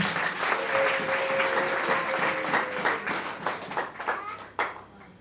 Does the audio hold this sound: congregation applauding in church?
yes